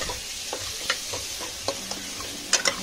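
Masala, salt and chili powder are scraped and stirred through mutton and chana dal curry in a pan, with a run of soft, uneven close scrapes and a few sharper clacks of the spoon against the pan.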